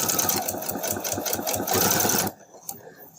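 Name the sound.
sewing machine back stitching quilt strips with J foot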